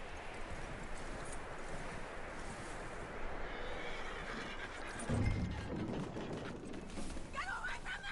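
Steady clip-clop of horse hooves runs throughout with a whinny near the end in a video game scene, under a dense ambient bed and some indistinct voices.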